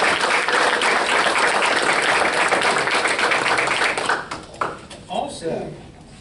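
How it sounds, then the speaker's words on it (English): Audience at a borough council meeting applauds in a steady, dense round of clapping that tapers off after four seconds as voices begin to speak. "Let's get a round of applause for 3 citations."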